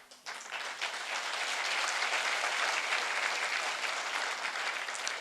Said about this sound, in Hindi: अब मैं आपको दिखाता हूं इस तालियों का जनरेटर कौन है